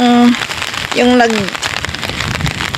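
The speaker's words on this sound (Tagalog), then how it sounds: "Ayan, umuulan." Rain falls steadily at an outdoor hot springs spa, a constant broadband patter that runs through the whole stretch while a voice talks briefly over it near the start.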